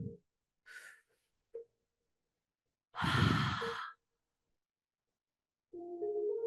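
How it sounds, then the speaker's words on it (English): Several deep breaths during a yoga class in a low lunge position: a few soft breaths, one long loud exhale, then a sustained breathy sound at the end, close and otherwise quiet. "Take 3 breaths."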